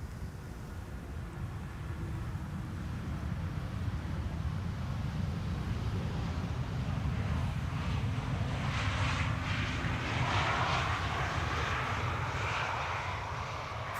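An Embraer E2 jet airliner lands at Amsterdam Schiphol Airport, its engines giving a steady low roar with rising whine and rushing air as it passes, heard from a distance outdoors with light wind noise and no talking.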